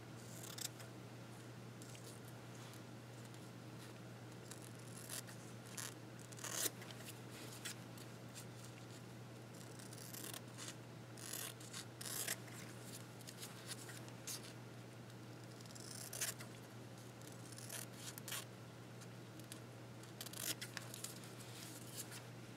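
Scissors trim a silk screen print in quiet, scattered snips and paper rustles over a steady low background hum.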